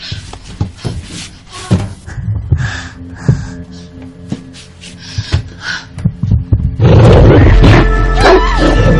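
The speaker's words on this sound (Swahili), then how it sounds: "sauti kama la jibwa hivi. Bonge la dude la mbwa, la nguruma kweli kweli" A huge dog-like creature gives a deep growling roar amid thuds and heavy breathing, ending in a loud sustained rumble close by.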